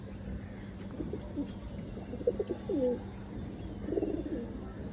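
A young female pigeon in an Old Dhaka loft gives faint low coos, a few short rolling notes over steady background hum, no talk.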